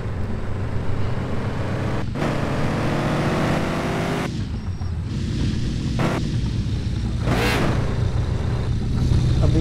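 A car is driven into an upgraded car showroom, its engine humming steadily and building in a low drone, with brief rises and dips as it moves, near and fairly loud.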